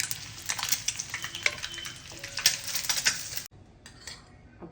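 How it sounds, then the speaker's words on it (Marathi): Eggs seasoned with turmeric and chilli powder fry on a tawa, a moderate sizzle mixed with clinks of a spatula and utensils scraping the pan, then fading to quieter frying near the end. "अंडे फ्राय करून घेऊ आपण।"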